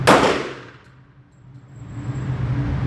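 A Llama MiniMax subcompact pistol fires at a steel target, producing one sharp, loud metallic clang at the start that rings and fades over the following seconds.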